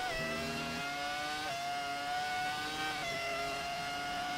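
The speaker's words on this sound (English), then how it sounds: "we're going to let the Ferrari sound take over" A high-revving Ferrari race car engine screams steadily during a race, its pitch climbing and dropping sharply at each gear change, loud and close.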